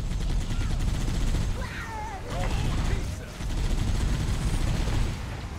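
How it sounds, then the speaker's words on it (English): Dense, sustained gunfire in Halo: Combat Evolved, a continuous rattling fusillade of rapid shots running through the whole stretch with only a short dip midway and a few faint warbling game effects layered in. "Aim and shoot!"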